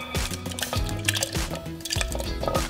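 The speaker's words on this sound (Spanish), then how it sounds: "el queso cottage, lo vamos agregando." Cottage cheese is dropped into a blender holding milk and vanilla, giving soft wet plops and squishy drips that repeat every half second or so, close and clear with no voices.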